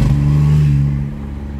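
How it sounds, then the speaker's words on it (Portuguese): A VW Polo TSI engine under a bridge, its steady mid-pitched drone holding loud and close through a gear change, then easing slightly as revs drop, with no distinct pops standing out. "trocar de marcha debaixo dele pra gente ouvir os estouros"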